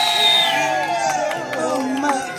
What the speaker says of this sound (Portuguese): Palmas! Quem gostou, faz barulho!